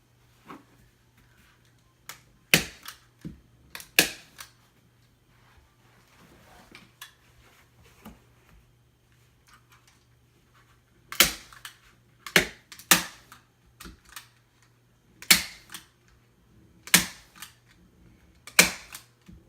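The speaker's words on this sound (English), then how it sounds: "you want to start stapling all the way around." A staple gun drives staples through fabric into a DIY headboard, firing sharp, close clicks one at a time and in quick pairs and triplets, with pauses between bursts and no talking.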